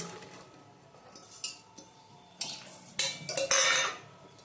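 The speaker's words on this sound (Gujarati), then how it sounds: "આપણે કુકરમાં થોડું પાણી નાખવાનું છે, અડધો ગ્લાસ। એમાં પોપૈયાના કટકા નાખી દેશું" Papaya pieces dropped into a pressure cooker with half a glass of water, a few scattered clinks and knocks of metal and pieces landing, building to a louder clattering cluster near the end.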